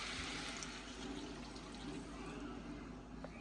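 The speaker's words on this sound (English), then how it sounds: "We got to add in some water." Water is poured into a pan of ground beef cooking with taco seasoning and vegetables, giving a soft, continuous sizzle and trickle that stays fairly quiet throughout.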